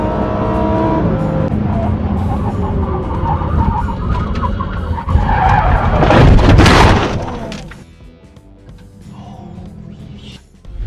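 A car on a road brakes hard and skids, with a loud harsh burst of tyre noise over engine rumble that peaks and then cuts off abruptly, leaving quieter traffic sounds.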